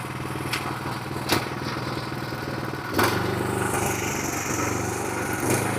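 A power tiller engine runs steadily with its gear engaged, a loud continuous rattling drone with a few sharper surges and knocks, close by and without talk.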